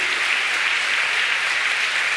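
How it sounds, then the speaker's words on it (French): A large audience at a stand-up comedy show at the Olympia in 1991 claps in a dense, sustained burst of applause that holds steady without letting up. "Comment ça se fait que vous applaudissez une chanson aussi bête?"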